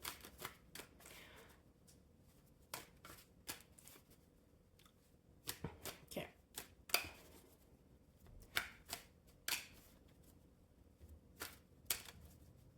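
Tarot cards being shuffled and cut for a birthday spread, a run of sharp, dry snaps and flicks at an uneven pace, each crisp and close against a quiet room.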